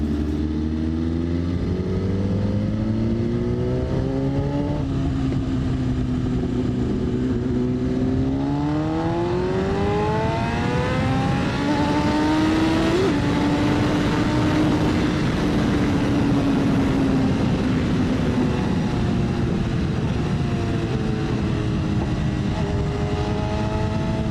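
Superbikes accelerating hard on a very straight stretch of road, engines rising in pitch through successive gear changes, loud and continuous with a second machine's whine layered over the first and no talking.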